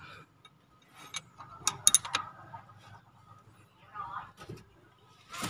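A ratchet wrench loosening engine bolts on an Isuzu 1.9 during EGR work gives bursts of quick metallic ratcheting clicks between quieter pauses, close by in a workshop.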